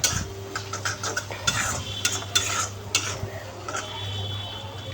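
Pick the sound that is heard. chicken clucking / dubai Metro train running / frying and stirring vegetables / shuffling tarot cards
frying and stirring vegetables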